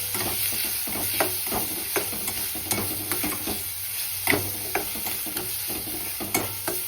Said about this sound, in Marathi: आता ही ढोबळी मिरची मी बारीक छान चिरून घेतली, ही पण याच्यात टाकते